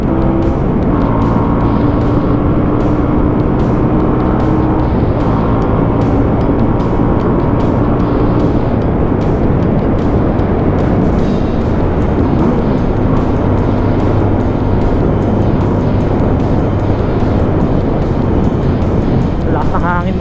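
A QJ Motor SRV 400 cruiser motorcycle with twin exhaust pipes is ridden in strong wind; a steady engine drone runs under continuous heavy wind buffeting on the microphone, close and constant throughout.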